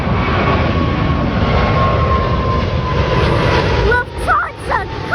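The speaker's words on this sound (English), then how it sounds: "Lufthansa Cargo! I was right! It was Lufthansa Cargo! I hear a plane." A Lufthansa Cargo airplane passes overhead at night near Hong Kong International Airport, a loud, steady engine roar that fades near the end as an excited voice calls out.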